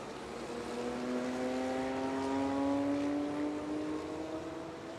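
Racing trucks on the Nürburgring circuit, engines droning loudly with a steady rising pitch as they accelerate, a continuous near roar without voices.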